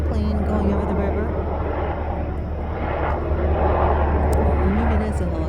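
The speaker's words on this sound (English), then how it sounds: "Small plane going over the river." Low droning engine hum of a small propeller plane passing overhead at a distance over a river, steady and moderately loud, with faint voices in the background.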